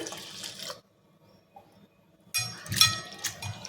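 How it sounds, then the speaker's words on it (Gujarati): Water sloshes and splashes in a bowl as flattened rice is washed by hand, in two short bursts separated by near silence. "તો આપણે પૌવાને ધોઈ લઈશું"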